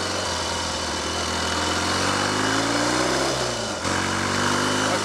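Triumph/Royal Enfield Trifield 500 trials motorcycle engine running steadily close by, a buzzing single-tone drone with a rising rev and brief dip near the end.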